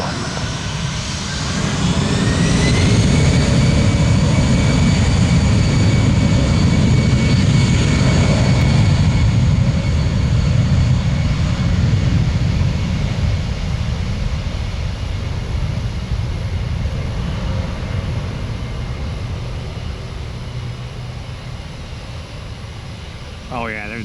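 An Allegiant Boeing 767 jet airliner takes off from Tampa International Airport with a loud, sustained engine roar and rising whine that slowly fades as it departs, with a voice talking over it.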